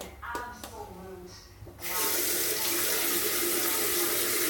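A tap is turned on partway through and water gushes steadily into a sink, loud and close, after a stretch of murmured talk and small knocks.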